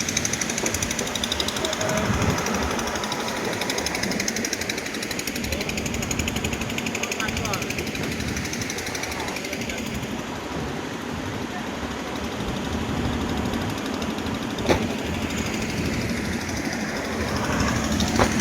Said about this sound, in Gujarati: તો જો એ બોટ જાય છે અત્યારે